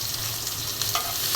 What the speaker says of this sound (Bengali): পেঁয়াজ কুচি দিয়ে দিচ্ছি, একটু জিরে ফাঁকি দিয়ে দিলাম তেলের মধ্যে